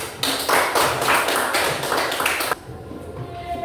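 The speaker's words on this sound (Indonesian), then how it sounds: "kita beri tepuk tangan dulu" Classmates give a short burst of group hand clapping after a student presentation, a quick patter of many overlapping claps that stops abruptly, leaving a quiet room.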